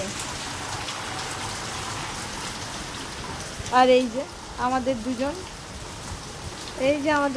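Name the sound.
heavy rain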